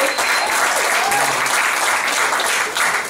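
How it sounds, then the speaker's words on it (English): A comedy club audience claps at a stand-up show, a loud dense wash of applause from a full room that holds steady throughout. "give yourselves a round of applause for being here"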